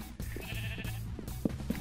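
A video game sheep gives a few short, nasal bleats in quick succession, fairly quiet and close, over a low steady background.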